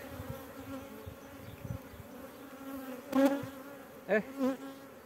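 Honey bees hum in a steady droning buzz around an open beehive, with a few louder individual bees passing close by.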